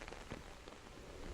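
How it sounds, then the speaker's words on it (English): Soft rain falls steadily on a roof, a faint, even patter of drops with a few slightly louder taps, alone without voices. "Knock, knock, rolling on the roof. Knock, knock, the rain whispers softly."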